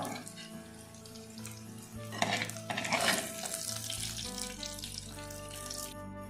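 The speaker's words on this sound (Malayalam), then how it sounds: "തക്കാളിയും ചെറിയ ഉള്ളിയും നല്ലോണം വഴറ്റി വെച്ചിട്ടുണ്ട്" Tomatoes and shallots cook in a pan for a restaurant-style spicy fish curry, with a steady sizzle and clattering stirring strokes that swell in the middle, at moderate volume.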